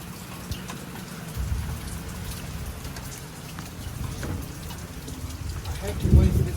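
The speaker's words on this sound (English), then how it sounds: "So much rain." Heavy rain pouring down outdoors on a farm field during a storm, a dense continuous hiss with low rumbling swells and a louder burst near the end.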